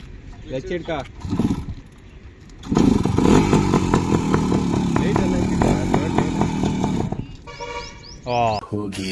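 A loud modified motorcycle with a repeater exhaust revs hard up close, its rough, crackling engine roar swelling and holding for several seconds before cutting back, with someone talking before and after the burst.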